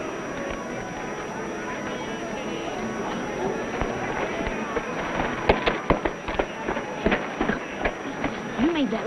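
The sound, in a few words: gunshots in a shooting contest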